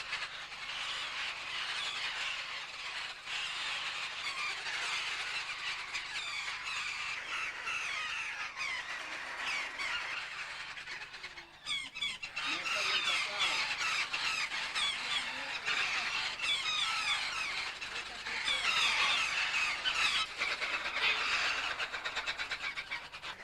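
Captured wild parrots squawk and screech continuously while being force-fed maize and water, a dense, harsh chorus of many birds close by that swells and fades without letup.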